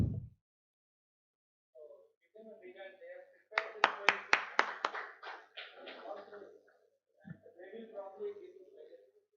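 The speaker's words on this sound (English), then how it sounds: "A round of applause to Dr." A short burst of hand clapping from a small conference audience, about eight sharp claps in quick succession, fairly faint, with talking before and after.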